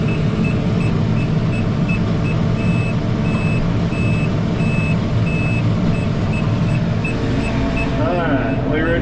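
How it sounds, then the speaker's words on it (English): A tractor's warning alarm beeps in a steady repeating pattern during hay rolling on a hillside, loud and close over a rumbling diesel engine, with the beeps stopping near the end. "the beeping's gonna kill me before the day's over with"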